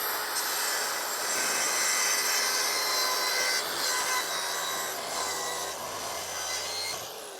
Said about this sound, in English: I want my track saw blade to be cutting on the dead center of each line